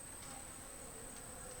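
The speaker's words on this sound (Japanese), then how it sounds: "あ、蜂がすごいいるんじゃない？" Bees swarm around a hive, giving a steady, faint, continuous insect buzz with a constant high whine and no voices.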